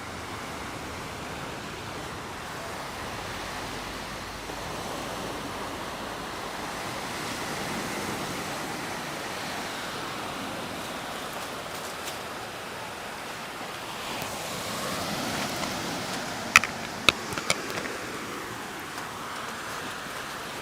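Surf washes steadily onto a beach on Koh Samet island, Thailand, a constant broad rush of breaking waves heard nearby for a long stretch, with a few faint clicks near the end and no voices.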